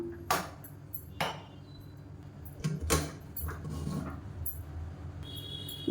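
A pressure cooker lid is set down and closed on a pot of samba wheat porridge, giving several distinct metallic knocks and clinks at close range, with quieter handling noise between them.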